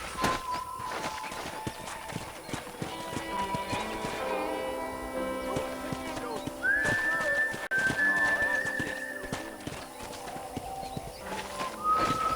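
A horse's hooves clip-clop steadily while riding through a ranch in the video game Red Dead Redemption, with a whinny and whistled tones over a continuous music-like background.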